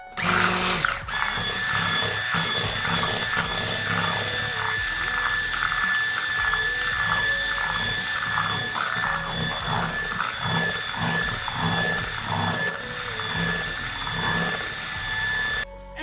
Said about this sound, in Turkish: ben mikserimle şöyle bir 3-5 dakika çırpmaya başlayacağım